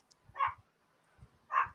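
A small dog lets out two short barks or yips about a second apart, fairly faint and close, with quiet low thumps between them and no talking.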